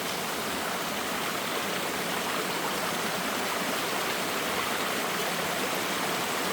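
Continuous roar of a forest waterfall and stream flowing on a jungle walk, a dense, steady rush of water heard up close with no voices over it.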